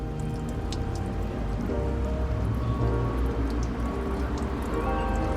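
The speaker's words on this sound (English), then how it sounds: "See, the water is coming out." Water draining from the holes of a balcony tomato container onto a surface below, a steady trickle with fine patters and drips against a continuous background hum.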